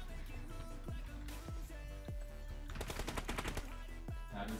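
Gunfire in a shooter video game, with single shots and then a rapid automatic burst, heard alone at moderate level without talk.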